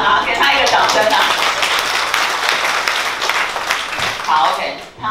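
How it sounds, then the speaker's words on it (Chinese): Audience applause at a hair-dye new-color launch event: dense, sustained clapping from a crowd that stays loud throughout and dips briefly near the end, with voices mixed in. "给他一个掌声啊"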